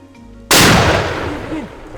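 A double-barrel rifle fires one loud shot at a buffalo during a hunt. A sharp, sudden crack is followed by a long, rumbling decay that fades over more than a second.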